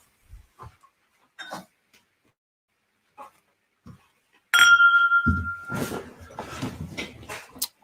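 Two clean drinking glasses set out for a whisky tasting, giving a sharp glassy clink with a ringing tone, followed by louder knocks and handling clatter close by, after a few soft, sparse taps.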